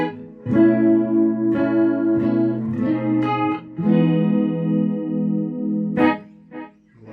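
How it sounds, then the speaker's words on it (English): Electric guitar played through a Pitchfork mini pitch pedal set to detune, giving chords and sustained notes a shimmering doubled chorus-like wobble, loud and alone, with several strums ringing out and a final short stab. "Another sound on the Pitchfork that's really cool is the detune sound, which in essence is just a chorus."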